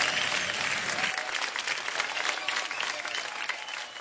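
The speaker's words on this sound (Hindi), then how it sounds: "अदिति जी के लिए तालियां" Audience applause at an award show, a dense, steady wash of clapping from a large crowd that holds loud and even for about four seconds and eases slightly at the end.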